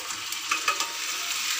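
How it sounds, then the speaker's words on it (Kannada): Onions frying in a pan make a continuous close sizzle, with a couple of quick utensil stirs and scrapes breaking through near the middle; no voices. "ಈರುಳ್ಳಿ ಸ್ವಲ್ಪ ಫ್ರೈ ಆದ ಮೇಲೆ ಟೊಮೆಟೋವನ್ನ ಹಾಕಬೇಕು"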